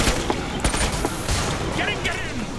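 Dense rapid automatic fire from the HMTech 401 medic assault rifle in the Killing Floor 2 video game, sharp loud cracks in quick bursts, with someone talking over the shooting.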